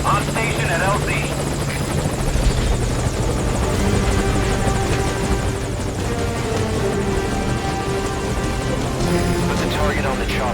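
A helicopter from the video game Metal Gear Solid V whirs loud and close, its rotor thump and engine buzz steady throughout, with voices and other game sounds layered on top.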